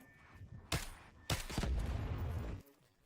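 Distant gunfire in the Delta Force video game, with two sharp shot bursts followed by a longer rumbling volley, faint overall and fading out at the end.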